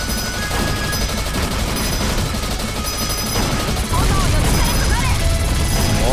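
Dense bursts of explosions and rapid fire from bombs being dropped in the shooter Caladrius Blaze, loud and continuous, growing heavier toward the end.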